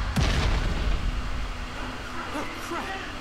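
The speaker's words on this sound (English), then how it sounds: "Cannon fire!" A cannon fires in the fantasy strategy game Grand Kingdom, a sharp blast right at the start that rolls into a deep, fading rumble.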